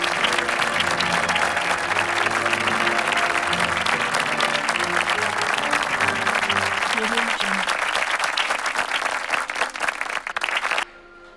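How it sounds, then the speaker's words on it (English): At a school annual day award ceremony, an audience applauds a grade 6 student receiving a yoga award. The loud, dense clapping runs continuously over soft background music and stops abruptly at the end. "Let's give a round of applause."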